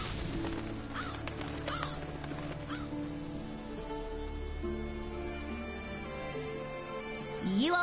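Black scavenger birds in The Witcher video game caw repeatedly over a steady ambient game soundtrack, with harsh calls scattered through and mixed with the background music.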